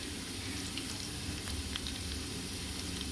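Sliced onions frying in oil with a little sugar in a pan, for chicken dum biryani: a steady, close, even sizzle hisses throughout without pause, with faint occasional crackles and no voices.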